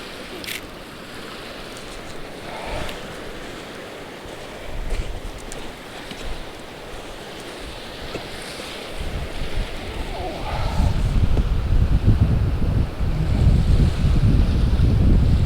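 Churning white-water surf breaking along a shore during sea bass fishing, with a constant roar of waves and wind buffeting the microphone, the water growing louder and rougher toward the end.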